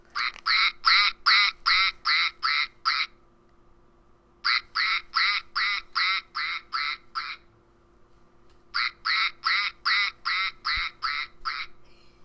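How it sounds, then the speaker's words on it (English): A toy duck character gives repeated quacking in three bursts of about seven to eight rapid quacks each, separated by short pauses, loud and close with no talking. "And a special message from Mr. Quackers."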